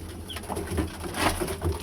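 Pigeons coo softly in a loft, low repeated throaty calls close by amid light rustling and faint background noise, with no talk.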